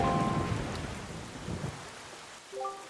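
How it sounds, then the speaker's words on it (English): Steady rain and low thunder rumble over a cursed island under dark clouds in The Legend of Zelda: The Wind Waker HD, a continuous wash of rainfall with faint musical tones at the start and end. "this place suffers under dark clouds and rain"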